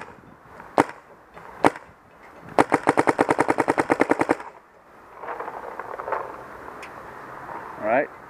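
A paintball marker fires two crisp, separate single shots, then a fast, evenly spaced string of sharp pops, followed by quieter handling noise and brief speech.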